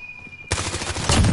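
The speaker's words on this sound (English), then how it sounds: "I just got a rocket dropped on me" A rocket explosion in a PS4 shooter game bursts in suddenly after a moment of near-quiet with a faint tone, then rumbles on as a loud, rolling blast with crackling debris.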